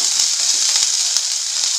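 Cumin seeds, ginger and green chilies dropped into hot oil on a gas stove for rava kachori filling, giving a steady bright sizzle that holds evenly throughout with no voices.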